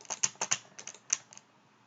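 A computer keyboard, pressing the space bar and the S key, gives a run of sharp, close clicks of about ten keystrokes in short uneven bursts, then trails off with no voices.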